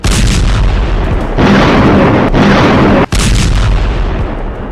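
Heavy, continuous blasts and booming from explosions in war footage of Israeli strikes on Hamas fighters, loud and sustained with a brief cutoff near the end, no talk.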